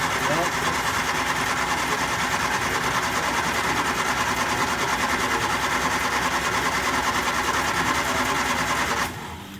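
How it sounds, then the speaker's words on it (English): A 1967 Triumph Spitfire Mk II with a starting problem makes a rapid, steady mechanical flapping and whirring from its fuel pump diaphragm. The sound is continuous and close, with voices faintly beneath it, and it cuts off near the end. "The flapping is the diaphragm flap."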